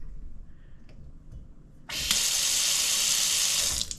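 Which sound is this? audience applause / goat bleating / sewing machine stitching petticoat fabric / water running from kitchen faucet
water running from kitchen faucet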